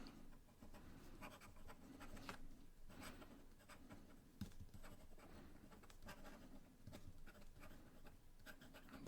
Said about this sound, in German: Schnelles Schreiben.